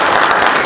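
A short, loud burst of steady clapping from an audience at a PNL Tulcea party candidate presentation, with no talk over it.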